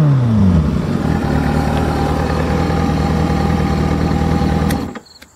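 A motorcycle engine fires up and settles into a steady, loud, close idle before cutting off abruptly near the end, with no voices over it.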